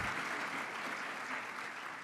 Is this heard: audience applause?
yes